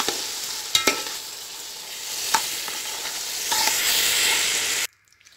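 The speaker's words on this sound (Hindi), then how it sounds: "इसको थोड़ा सा हल्की सी आंच पे मीडियम पे हमने इसको फ्राई करना है" Milk and sugar sizzle steadily in a pan over medium heat while a spoon stirs, with a few scraping clacks, the frying hiss growing louder before cutting off abruptly near the end.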